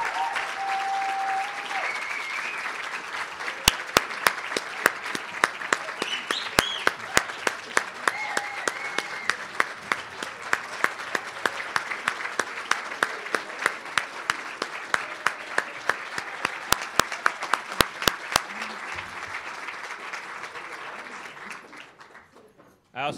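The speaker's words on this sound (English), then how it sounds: "Give them a round of applause." Sustained audience applause at a school conference for student ambassadors, continuous crowd clapping with scattered sharp nearby claps standing out, lasting over twenty seconds before fading at the close.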